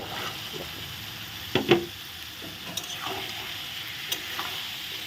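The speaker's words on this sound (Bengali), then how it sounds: "এখন মটরগুলো আমি দিয়ে দিচ্ছি মটর দিয়ে আর একটু কষবে" Boiled peas being stirred into a frying spice masala for egg ghugni, a quiet steady sizzle broken by a few sharp scraping stirs of a spoon against the pan.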